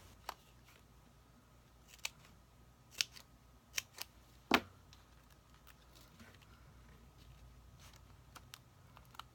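Scissors snipping card pieces for a stamped greeting card, several sharp isolated clicks spaced a second or so apart, close and quiet in a still room.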